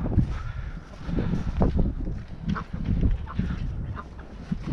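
Ducks gather around a feeder outdoors, giving off low, close quacks and honking calls mixed with rustling and shuffling sounds from the birds as they move about and feed.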